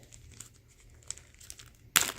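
A plastic snack bag rustles faintly for a moment, then a sharp, loud crinkle and tear bursts out as it is pulled open at the end.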